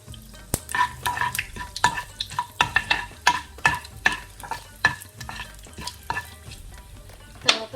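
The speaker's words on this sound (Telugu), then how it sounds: "మస్టర్డ్ సీడ్స్ అవి ఫ్రై అయిపోయి ఇందులో రెడ్ చిల్లీస్ వేద్దాము." Mustard seeds and red chillies fry in hot oil for a three-leaf chutney of coriander, mint and curry leaves, giving a steady crackling sizzle with many sharp popping bursts, close and fairly loud, with no talking.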